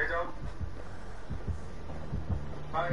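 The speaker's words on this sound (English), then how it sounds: "Do you hear that heartbeat?" A low, repeating heartbeat thump from the video game Dead by Daylight pulses steadily across the whole stretch, with faint background hum and players talking over it.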